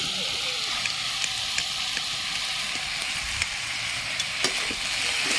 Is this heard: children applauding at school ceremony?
no